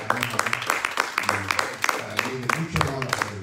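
A church congregation claps in welcome, sharp irregular hand claps mixed with a voice talking over them.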